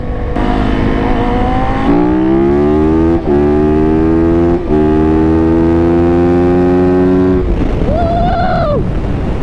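A 750cc sport bike racing alongside a 450 motorcycle on sandy ground: a loud, close engine roars and climbs through the gears with brief dips at each shift, then eases off as a higher whine rises, all under heavy wind buffeting.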